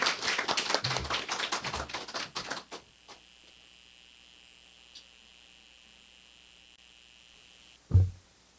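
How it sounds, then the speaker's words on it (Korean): Applause from a church congregation at a Sunday worship service, dense clapping for a couple of seconds that quickly thins to scattered claps and fades into a quiet room, with a single soft thump near the end. "우리 큰 박수로 환영해 주시기 바랍니다"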